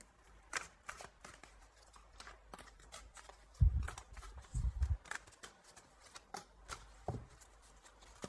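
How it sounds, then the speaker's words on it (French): Tarot cards are shuffled up close with soft, quick riffling and flicking, rising to a few louder thumps in the middle, with no one speaking. "Je vais prendre quelques cartes encore"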